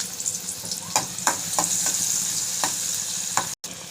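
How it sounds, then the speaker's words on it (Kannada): Half a kilo of chicken with a little onion frying in a pan, a steady close sizzle broken by repeated scraping clicks of a spatula stirring, no talk. "ಬಾಣಲೆಲಿ ಅರ್ಧ kg ಚಿಕನ್ನು, ಸ್ವಲ್ಪ ಈರುಳ್ಳಿ ಹಾಕೊಂಡು ಫ್ರೈ ಮಾಡ್ಕೊಳ್ತಾ ಇದ್ದೀನಿ"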